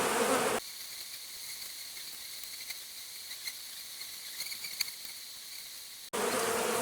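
A steady, dense buzzing drone of honey bees in an open hive, continuous and fairly loud, with occasional faint clicks underneath.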